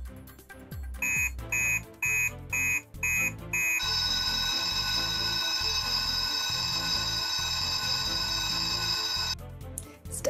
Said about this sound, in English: the master alarm went off